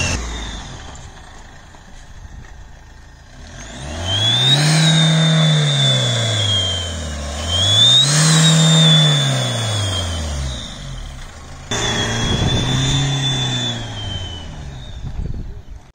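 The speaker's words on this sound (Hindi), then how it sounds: "गाड़ी पूरी सीटी मार रही है तगड़े तरीके से" Loud car engine revving in two long swells, with a sharp high whistle from a turbo whistle device fitted to a small exhaust rising and falling over each rev, then a third rev near the end.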